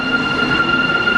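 A subway metro train in Busan, heard from inside or beside the car: a steady, loud rumble with a sustained high whine from the running gear, constant throughout, with no talking.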